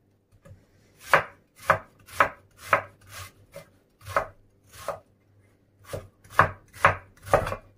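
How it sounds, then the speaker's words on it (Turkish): Sharp knife chops through mushrooms on a board, about a dozen crisp strokes in a steady rhythm with a short pause midway, close and clear with no talking. "mantarlarımı da doğrarken"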